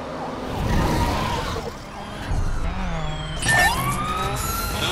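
Police sirens wail in The Crew video game as cops chase a car, loud and continuous, rising and falling over the roar of a racing engine, with no talk over them.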